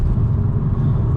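A 2022 Volvo V60 Cross Country taking a left-hand bend on a country road, heard from inside as a loud, steady low engine and road rumble with no voices.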